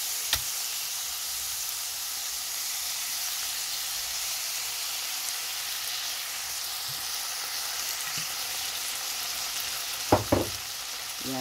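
Beef frying in a pan with oyster sauce gives a steady sizzle as it is stirred, a few clinks of a utensil near the end, and no talking.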